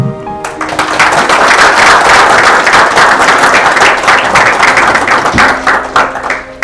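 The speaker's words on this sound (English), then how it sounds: "I would like to have you just give a warm round of applause to the Vice Chancellor" An audience at a university citation ceremony breaks into loud, dense applause for the Vice Chancellor, swelling quickly and holding steady before tapering slightly, close and full.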